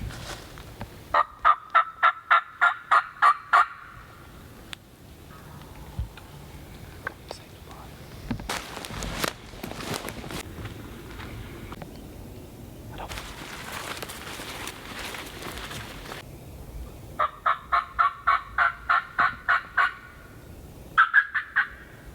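A wild Eastern turkey gobbles in the Tennessee woods, a loud rapid rattling call that bursts out in repeated runs at the start and again near the end, with hushed whispering hunters in between.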